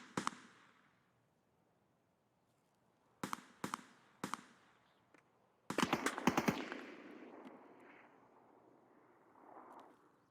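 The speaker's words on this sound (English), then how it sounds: "Someone threw a nade and I'm disconcerted." A grenade exploding in Escape From Tarkov, heard as a sharp pop and then sparse crackling reports, followed by a cluster of loud blasts and a rumbling tail that fades out.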